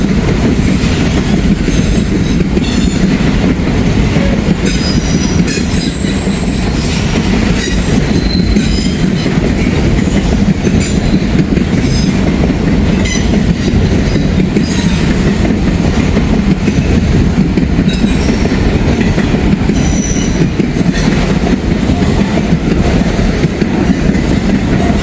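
Freight train hauled by heritage locomotives passing close by, a loud, continuous roar of rolling cars with squealing wheels and rhythmic clickety-clack throughout, no talking.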